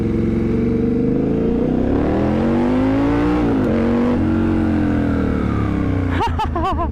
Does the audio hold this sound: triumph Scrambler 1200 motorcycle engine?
yes